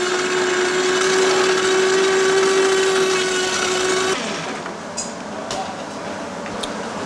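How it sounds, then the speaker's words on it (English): A kitchen blender whirs steadily while blending vinegar and olive oil to a mayonnaise consistency, a loud continuous motor drone with a high whine that drops in pitch and load partway through, followed by a few small clinks. "what we're doing is blending it to sort of a mayonnaise consistency."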